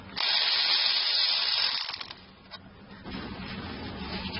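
Socket wrench on a 15mm bolt of the idler pulley by the alternator of a VW Passat 3.6: a steady buzzing ratchet whir for about two seconds, then quieter intermittent clicking and rattle, close, no talk.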